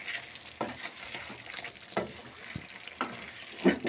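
Chicken karahi with kasuri methi is stirred in a pan, with soft rhythmic scrapes and light sizzling every second or so, fairly quiet and close.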